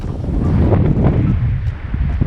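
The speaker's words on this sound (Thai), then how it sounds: "ลมโคตรแรงครับ" Strong wind buffeting the microphone at a mountain viewpoint above a sea of fog, a loud continuous rumbling roar with gusting swells and faint rustle.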